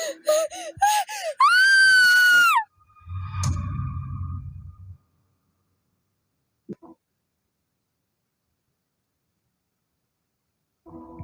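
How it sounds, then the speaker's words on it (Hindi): A high, rising scream cries out briefly, followed by a heavy low thudding rumble, then near silence with a faint voice at the end. "किसी चीज के जोर से गिरने की आवाज आई और रुचि की चीख"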